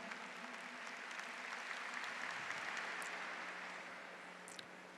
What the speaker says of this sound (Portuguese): Vamos aplaudir também o Espírito Santo